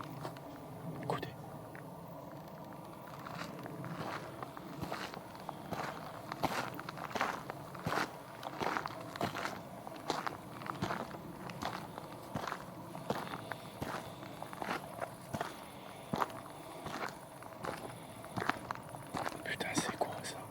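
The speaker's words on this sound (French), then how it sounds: "J'ai entendu clairement des bruits de pas." Footsteps crunching through a forest at night, steady irregular steps on leaves and twigs, faint and close, with hushed whispering voices throughout.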